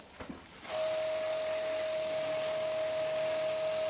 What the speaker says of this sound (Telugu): ఆ ఏసీలో చూడండి వాటర్ ఎలా పంప్ చేస్తున్నారు.